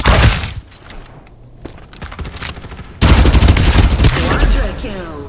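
Gunfire in the shooter game Farlight 84: sharp shots and clattering bursts, a quieter stretch of scattered shots followed by a loud dense volley of rapid fire near the end.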